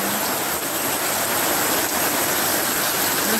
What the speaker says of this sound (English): So all the rain pouring down.